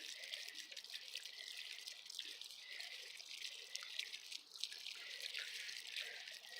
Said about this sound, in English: I'm gonna water over here too